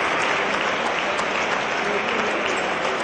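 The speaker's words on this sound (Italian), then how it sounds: "gli applausi del Palamangano" Dense, continuous crowd applause fills the Palamangano basketball arena during a game, steady and loud throughout without a break.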